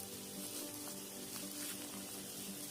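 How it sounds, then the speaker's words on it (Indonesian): Breaded banana snack frying in hot oil over medium heat, giving a steady, dense sizzle with faint crackles and pops throughout, close and fairly quiet, with no voices. "Ini langsung saya goreng, sebelumnya minyak sudah dipanaskan."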